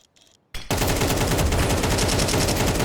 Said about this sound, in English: Hwaso Peak is getting the kill with that AK